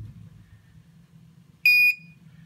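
A gas leak detector gives a single short, high-pitched electronic beep that sounds clearly over a quiet low hum, lasting about a quarter second.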